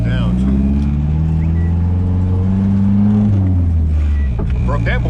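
A turbocharged Nissan 240 with a KA24DET engine that is slightly misfiring drones loudly and steadily, its pitch rising under load before easing off near the end, while someone talks over it.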